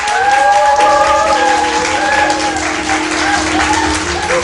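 Steady applause from an audience of middle and high school students at a literary concert, dense clapping from a sizable crowd sustained throughout without letup.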